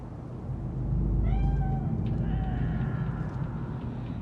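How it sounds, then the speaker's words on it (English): A cat meows in a drawn-out call inside the video game Cyberpunk 2077, heard moderately over a steady, dense ambient rumble, with a second fainter meow following shortly after. "It is a cat spirit."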